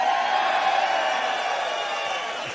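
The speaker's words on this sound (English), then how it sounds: "Listen to that crowd." A large political rally crowd in New Hampshire cheers and whoops in a sustained, even roar of many distant voices lasting a couple of seconds.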